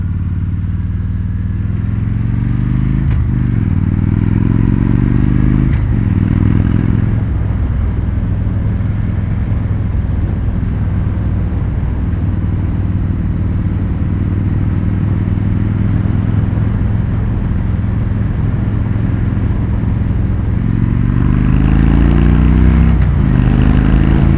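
A 2016 Victory Judge cruiser motorcycle fitted with a performance exhaust, riding with a steady, loud, deep rumbling drone and a few quick throttle blips and rev changes near the start and end.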